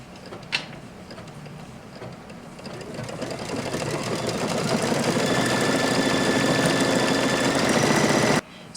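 A single-needle embroidery machine stitches an OESD Merry & Bright tiling scene with a rapid, steady mechanical whir that builds in loudness, then cuts off abruptly near the end.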